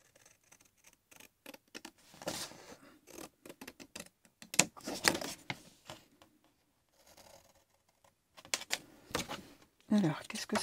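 Scissors cutting a straight line through card for a handmade greeting card, close crisp snips in irregular clusters with quiet pauses between bursts.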